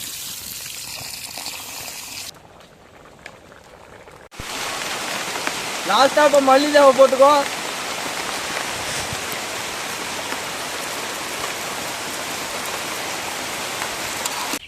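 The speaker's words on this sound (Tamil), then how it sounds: "மழை வந்துருச்சு" Rain falls outdoors at a village cooking spot, a steady broadband hiss of drops spreading over the ground, with people talking briefly in the middle over the downpour.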